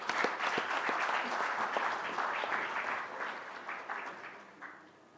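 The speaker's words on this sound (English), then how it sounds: "can we have a loud round of applause for Mr. Amitabh Kant?" An audience at a business summit claps steadily for several seconds, a dense crowd applause that gradually fades out near the end.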